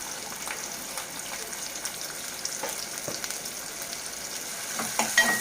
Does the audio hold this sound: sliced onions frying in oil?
yes